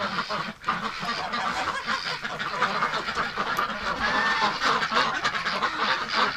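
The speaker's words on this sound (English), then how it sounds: "Oh, it's loud in here today." A crowded winter shelter of ducks and geese fills with steady, loud honking and quacking, many close birds calling over one another without a break.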